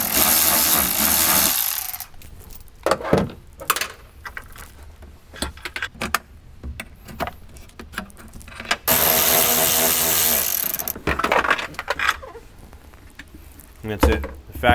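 Clanking tool work and metallic handling while bolts and connectors come off a factory Bang & Olufsen amplifier in a 2021–2024 Ford Bronco, with bursts of loud broadband noise and scattered knocks and rattles close by.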